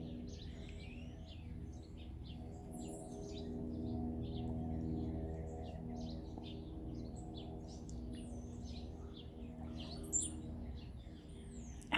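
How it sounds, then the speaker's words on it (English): Small birds chirp and tweet in quick scattered calls over a low steady hum, faint and somewhat distant, with a slightly louder chirp near the end. "I've got regular birds that come and greet me."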